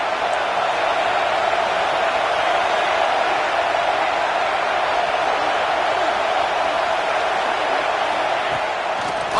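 A college football video game stadium crowd, a steady, dense roar of cheering fans that holds at one level throughout without pauses.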